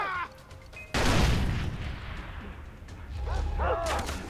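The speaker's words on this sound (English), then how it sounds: "Oh, that's a grenade!" A grenade goes off in the video game Far Cry 3 with a sudden loud close blast, then a long rumbling decay with scattered debris-like crackle and a few later bursts, mixed with faint game sound effects.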